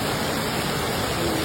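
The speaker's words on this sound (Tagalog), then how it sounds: "Grabe ang lakas ng ulan mga nanay." Heavy rain pouring outside a house, a dense, steady broadband hiss like rushing water, loud and unbroken, with no voices.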